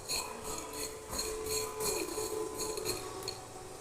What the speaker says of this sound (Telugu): పక్కన స్టవ్ పెట్టి ప్యాన్ పెట్టి కంప్లీట్ డ్రై రోస్ట్ చేసుకోవాలన్నమాట